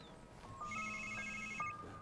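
A telephone rings from a watched video, a bright electronic ringtone pattern of repeated tones that starts partway through and sounds moderately loud over a soft background.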